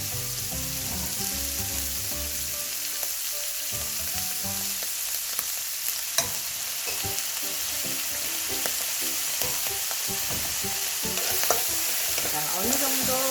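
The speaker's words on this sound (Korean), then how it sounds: "담뿍 배일 수 있도록 열심히 볶아주겠습니다." Vegetables and meat stir-fried in a pan with a little soy sauce for soup, a steady close sizzle with scraping and stirring clatter throughout, no voices.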